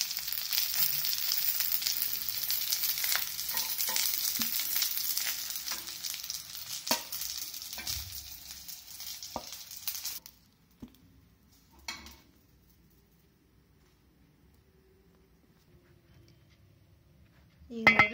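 Masala being roasted in ghee in a pan for stuffed brinjal gravy gives a steady sizzling fry with stirring scrapes for about ten seconds, then drops to near quiet with a few faint clicks.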